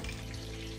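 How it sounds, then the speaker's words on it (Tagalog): Fish fries in a pan with a steady, soft sizzle and crackle that carries on evenly without a break. "At syempre, tuloy-tuloy tayo dito sa ating piniritong isda."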